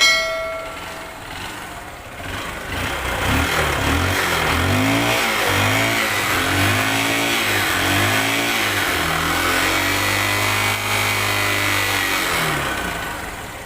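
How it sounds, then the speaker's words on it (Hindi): A motorcycle with a faulty engine that is pouring white smoke from the silencer starts up and settles into a slow, uneven idle at around 1000 RPM, a loud close throbbing that wavers in pitch and fades slightly at the end. "तो मैं आपको बाइक स्टार्ट करके दिखाना चाहूँगा।"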